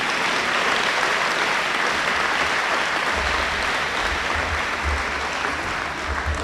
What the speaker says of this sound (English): Please join me in giving our captains for 2018 a big round of applause.